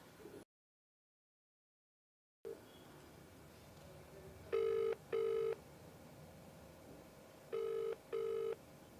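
Phone ringback tone on an outgoing call, with two pairs of short double rings following a brief silence, faint and clean with light background hiss.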